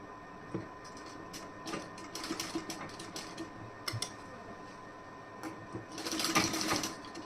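A sewing machine stitches tucks on a blouse in short, rattling bursts with brief pauses between runs, close and fairly quiet, and a longer burst comes near the end.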